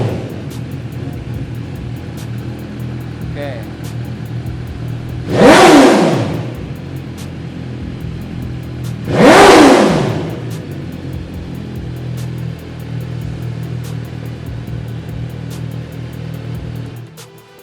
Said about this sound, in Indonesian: suara dari MV Agusta Brutale 990